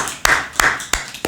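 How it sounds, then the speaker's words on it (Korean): Applause for a brother at a church gathering, with four sharp, loud bursts of clapping in an irregular rhythm, close and brief. "우리 박수를 우리 형제."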